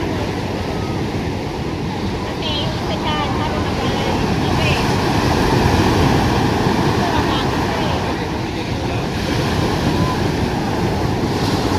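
A loud, steady roar of large ocean waves churning and crashing around a fishing boat, with wind buffeting the microphone throughout.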